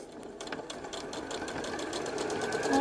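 A sewing machine stitches around the edges of a reusable cotton facial cleansing pad, its rapid, even mechanical chatter running steadily and close, growing slightly louder toward the end.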